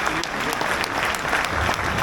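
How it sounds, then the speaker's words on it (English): A crowd applauds at a motorcycle museum open day, a dense, steady wash of many hands clapping close and loud for about two seconds with no pauses. "Give him a round of applause."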